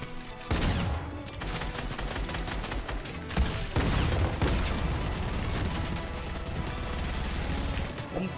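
Rapid gunfire from a Fortnite match, dense bursts of automatic shots running nearly nonstop over mechanical clicks and game noise, loud and close throughout.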